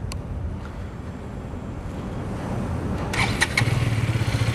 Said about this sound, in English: let me just start the engine now